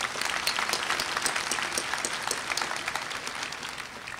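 Audience applause at a Columbia Southern University graduation ceremony, sustained brisk clapping from a large crowd in a big hall that holds steady throughout.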